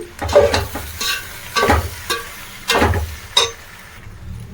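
Macaroni pasta being stirred in a pan, with a series of distinct scraping, clattering strokes at an irregular rhythm over a low, steady background hum, close by and moderately loud with no talking.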